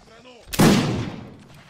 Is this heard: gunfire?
yes